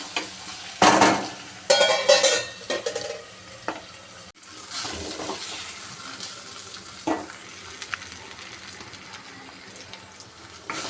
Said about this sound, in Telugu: ఇవి మధ్య మధ్యలో కలుపుకుంటూ వేగాయి మంచిగా రొయ్యలు ములక్కాయలు